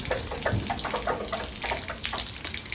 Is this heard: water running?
yes